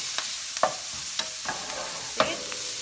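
Kapampangan sisig with onion, lemon, ground pepper and salt frying in a pan, a steady sizzle punctuated by repeated sharp spatula scrapes and taps at an uneven rhythm, close and clear.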